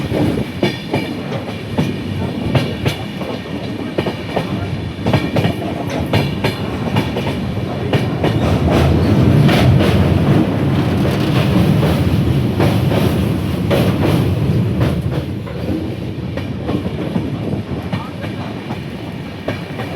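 A passenger express train rolls along the rails on the approach to Bagdogra, giving a continuous rumble with rhythmic clickety-clack from the wheels heard from inside the carriage, loud and steady throughout.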